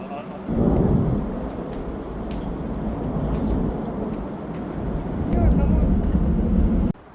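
An airplane passes overhead at an Adelaide riverbank, a deep, sustained rumble that swells and holds for several seconds, with people talking faintly beneath it.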